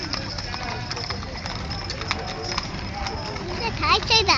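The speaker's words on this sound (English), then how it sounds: "Look at all the horses." Horses' hooves clip-clop on a downtown street during a cattle drive, a steady patter of hoofbeats under constant crowd chatter and nearby talking.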